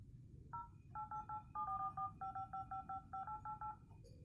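A rapid string of telephone keypad tones dials a number, each beep short and clear, in quick rhythmic groups over a faint low room hum, with no voices.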